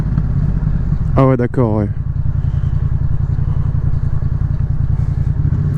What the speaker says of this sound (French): elle est belle sa moto, j'aime beaucoup